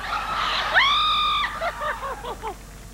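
On a game show a woman lets out a long, loud, high excited scream and follows it with a run of shorter, falling yelps and squeals.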